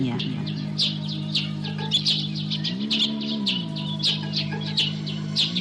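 Repeated high chirps and calls imitating birds as a signal, several trading short tweets over a steady low hum, fairly close and clear.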